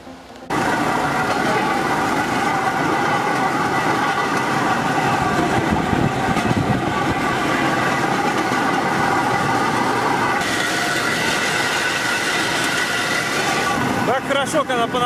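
A rail draisine rolls along the track near Tyosovo, producing a continuous, even rumble and rattle that starts abruptly and holds steady for the whole ride.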